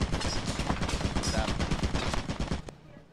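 Rapid gunfire from automated turrets in a video game, a dense burst of shots that runs for more than two seconds and then cuts off abruptly.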